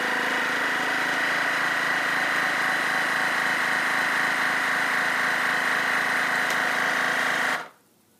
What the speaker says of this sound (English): Super easy to use, and all I just press is vacuum seal.